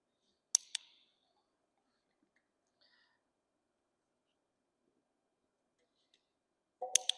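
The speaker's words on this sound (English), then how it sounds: "I will take out the little one clicks that I'm doing" A dog training clicker gives a few sharp, quiet clicks in an otherwise near-silent room: a pair close together early on, then a louder cluster near the end.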